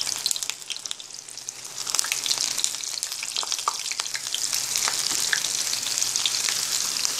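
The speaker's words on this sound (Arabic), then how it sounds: "انا دلوقتي هنزل بقى اهو بالسمك" Small basaria fish, shaped into patties, sizzle in hot oil in a pan, a loud, close, steady crackle and spatter that builds slightly over several seconds, with no talk.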